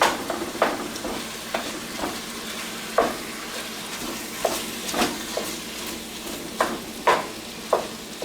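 Ground meat sizzling and browning in a pan for spaghetti meat sauce, a steady fry punctuated by repeated scraping stirs and clinks of the utensil, fairly close with no talking.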